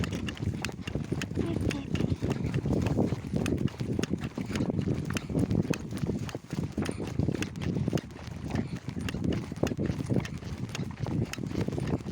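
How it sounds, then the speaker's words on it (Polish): Pony galloping across a field on a horseback trail ride, with steady rhythmic hoofbeats and rustling close to the microphone throughout, mixed with wind and occasional talk. "Dobra, NASA już włączyła swoje turbo. Turbo kucyka."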